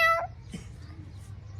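A man imitates a cat with his voice, giving one short, fairly loud meow-like cry near the start, followed by quieter low background noise.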